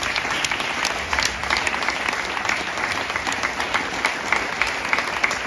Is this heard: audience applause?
yes